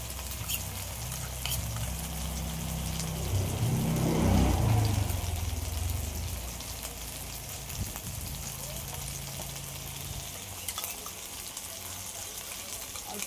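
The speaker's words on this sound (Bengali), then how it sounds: "যে মশলার পেস্টটা বানিয়ে রেখেছিলাম এটা দিয়ে দিচ্ছি।" A prepared spice paste hits a hot pan and fries with a steady, close sizzle, swelling briefly as it lands, with scraping stir sounds throughout.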